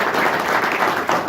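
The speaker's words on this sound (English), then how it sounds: "Please join me in giving them a round of applause." Brief burst of steady audience applause for city council candidates at a voters forum, dense clapping filling the room.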